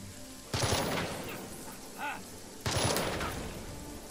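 Overwatch gunshots in the tactical game Jagged Alliance 3: two loud, sharp bursts about two seconds apart, each tailing off into a decaying echo, with a faint tonal blip between them.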